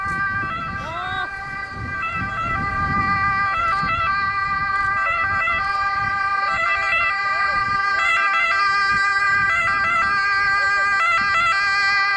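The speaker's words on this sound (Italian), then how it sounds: "Fortunatamente sta arrivando un'ambulanza che lo porterà immediatamente in ospedale." An ambulance siren wails in repeated rising and falling cycles at a road accident simulation, loud and close throughout, with traffic noise underneath and faint voices in the background.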